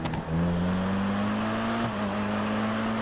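A car engine drones steadily in a video game, holding a low, even pitch that rises slightly as it drives, close and continuous with no talk.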